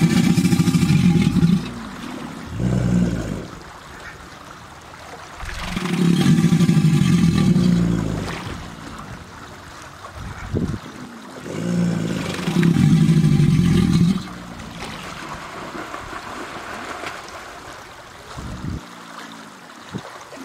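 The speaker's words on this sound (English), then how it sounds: "the rapid exhalation of air from the lungs creates sound waves that vibrate the water around the gator's chest, making it dance." A 10-foot alligator bellows, exhaling air that vibrates the water around its chest; deep, rumbling roars come in three loud, sustained bursts separated by quieter gaps with splashing and water movement.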